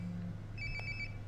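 A phone rings in Life Is Strange: Before the Storm: a brief, quiet burst of bright electronic ringtone pulses over a low background hum.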